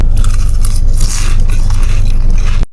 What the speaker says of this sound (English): This baklava is more on the crunchy side,